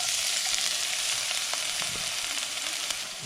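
Green onion, garlic and ginger sizzle steadily in hot oil in a pan for a mapo tofu base, a close, continuous frying hiss with faint stirring scrapes.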